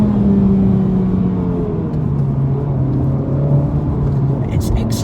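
A Honda Civic Type R FK8 blips its engine to rev-match during a downshift, a rising whirring engine note heard from inside the car over road rumble, with someone talking over it.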